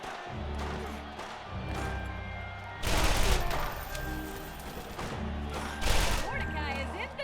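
Rapid volleys from a legendary weapon in Borderlands, several sharp bursts of fire with a strong pair of loud blasts, over low pulsing game music and someone talking.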